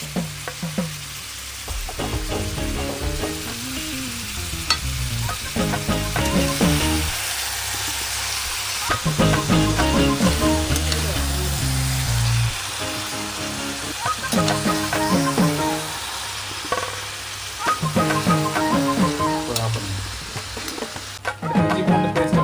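Chicken seasoned with salt and turmeric sautés in a pan with a continuous, loud sizzle. A spatula stirs it in repeated bursts of scraping and clattering.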